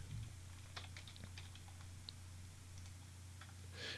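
Someone typing on a computer keyboard while working in the Hammer map editor, a quiet, close run of light key clicks in irregular short bursts over a low steady hum, with no talking.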